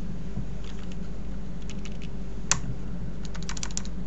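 Keyboard typing on a computer client at a Windows Server setup: scattered light key clicks, a few isolated taps then a short quick burst, faint and close over a steady low hum, no voices.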